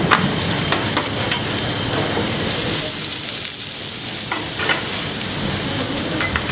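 Onions fry in olive oil in a hot pan, making a loud, dense, unbroken sizzle with scattered pops throughout.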